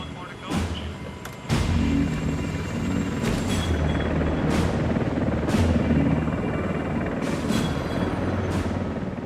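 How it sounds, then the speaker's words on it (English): A rescue helicopter hovers over a ship at sea, its rotor and turbine making a steady, heavy roar that holds for the whole stretch, with a few sharp gusts and bumps. Narration runs over it. "keep the helicopter at a constant equal distance from the ship"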